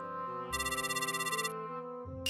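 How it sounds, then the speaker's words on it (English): A house landline telephone rings with a bright electronic ringtone, a steady trilling burst that sounds close and clear over background music, with no talking. "Oh dear, the phone. Well, that's not my cell phone, that's the house phone."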